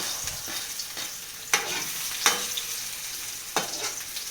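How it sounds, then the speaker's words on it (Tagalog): Garlic hits hot cooking oil and fries with a steady crackling sizzle, punctuated by a few sharp clanks and scrapes of a utensil in the pan; no speech. "Tapos lagay natin itong Bawang sibuyas."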